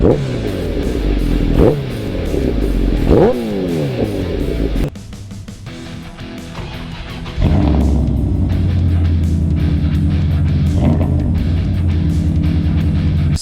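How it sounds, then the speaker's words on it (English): A 1100 motorcycle engine with a cold air intake idles and is revved several times, each blip rising sharply then falling back, close and loud, with a steady idle between revs. "Give you guys a couple revs here."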